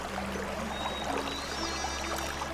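Water pours continuously for a couple of seconds while someone is being washed, a steady splashing trickle close by with no speech.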